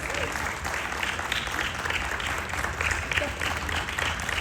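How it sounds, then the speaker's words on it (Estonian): Audience applause at a book-year opening ceremony at the Estonian National Museum, sustained clapping from a sizable crowd throughout, fairly loud and even with rising bursts of individual claps. "aplaus Sirelile!"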